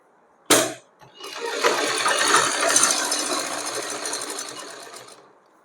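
A sewing machine runs a short stitching burst on pant fabric, sewing a pocket edge on Afghani-style pants, a steady whirring rattle lasting about four seconds after a brief click, close and fairly loud, with no talk.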